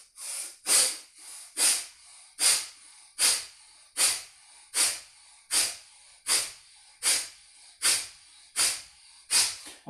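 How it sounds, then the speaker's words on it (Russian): Deep rhythmic breathing during a breathwork exercise, about a dozen strong hissing breaths in a steady even cycle, close and loud with no talk. "Вот с таким дыханием."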